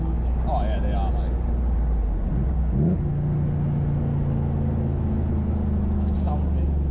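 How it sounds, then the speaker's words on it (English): A bagged Corvair's engine rumbles while driving, a steady low drone that swells as the revs climb, heard from inside the car and close by, under and alongside people talking. "When it's like up in the revs, it sounds insane."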